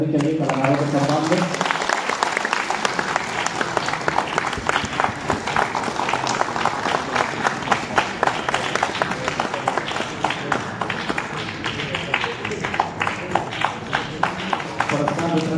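Theater audience at Premchand Rangshala in Patna applauding performers during an award ceremony: steady, dense clapping throughout, with a voice speaking briefly over it at the start.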